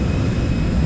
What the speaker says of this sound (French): mon avion est là